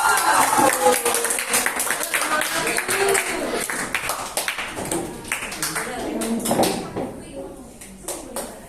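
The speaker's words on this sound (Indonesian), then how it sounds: "Yuk kita berikan tepuk tangan dulu untuk kelompok." A school classroom audience claps for a student group, a scattered patter of hand claps running under and between people talking nearby.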